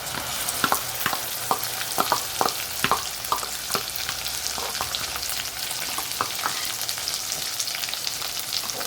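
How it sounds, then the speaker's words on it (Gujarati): Onion paste frying with chopped capsicum and ginger paste in a pan for paneer lababdar, giving a steady close sizzle broken by frequent sharp clicks and pops. "ડુંગળી આપણે પહેલાં પણ ફ્રાય કરી છે એટલે આપણે એને થોડીક વાર માટે જ ફ્રાય કરીશું"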